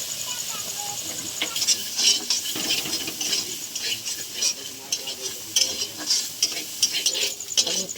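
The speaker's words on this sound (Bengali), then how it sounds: "ভুট্টাটা একটু ভেজে নেব" Corn kernels fry in a little oil in a wok while a utensil stirs them constantly, giving a steady close sizzle broken by scraping strokes and light clinks against the metal.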